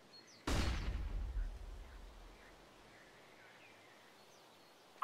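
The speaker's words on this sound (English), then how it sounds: "Throwing flashbang." A thrown flashbang goes off in one loud, sharp blast, followed by a rumbling tail that fades over a couple of seconds into quiet background.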